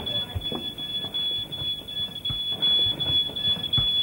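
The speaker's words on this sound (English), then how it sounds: "The smoke alarm going off?" A steady high-pitched smoke alarm tone sounds continuously in a kitchen during cooking, with muffled thumps and faint voices underneath.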